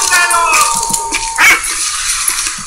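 A dog in the video game Valiant Hearts: The Great War barks a few times, loud and close, over the game's background sound.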